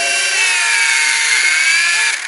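A toy helicopter's small tail rotor motor whines and buzzes steadily up close, its pitch wavering slightly before easing off at the end.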